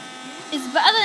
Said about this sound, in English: so yeah, I'm gonna vacuum the mess